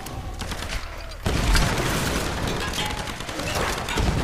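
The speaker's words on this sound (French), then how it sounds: "Oula, fusil à pompe." Shotgun gunfire in the Tomb Raider video game sounds as heavy blasts, a loud one after about a second followed by further shots and battle clatter, close and forceful throughout.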